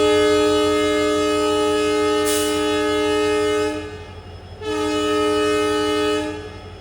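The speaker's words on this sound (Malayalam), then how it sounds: "ഈ ഡീസൽ ലോക്കോമോട്ടീവിൻ്റെ ഈ ഒരു ശബ്ദം നല്ല രസമാണ്" A WDM 3A diesel locomotive hauling the Mangaluru to Rameswaram Express sounds two long, loud, steady horn blasts with a brief gap between them, over a constant low engine rumble as the train departs.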